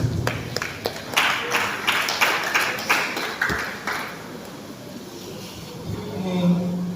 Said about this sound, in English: Clap for the man.